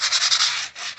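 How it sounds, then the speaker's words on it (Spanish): Light, steady hand sanding of a fiberglass repair on a broken fascia, a dry rasping scrape with a few quick back-and-forth strokes, close up and with no talking. "Ok, entonces una lijadita ligera"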